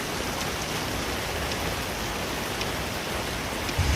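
Heavy rain pours down in Singapore as a dense, even hiss of drops on surfaces that holds steady and loud without a break.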